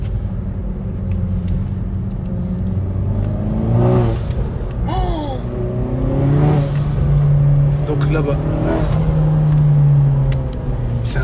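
A Hyundai i30 N hot hatch revs its engine with the exhaust valves closed, giving a steady low rumble that swells in several surges, heard from nearby under excited talk.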